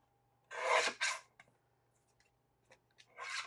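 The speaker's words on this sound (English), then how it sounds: "I've got my trimmer and I've got my A2 size cardstock, and I'm going to cut this down to" A paper trimmer slices A2 cardstock in quick, close rasping strokes: two swipes in a row, faint handling clicks, then another cut at the end.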